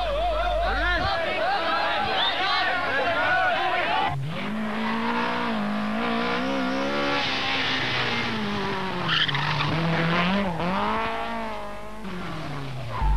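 Tony Pond's rally car, driven by Jean-Louis Dumont at a 1983 Belgian rally round, roars with a revving engine and squealing tyres as it skids and slides past, loud and continuous.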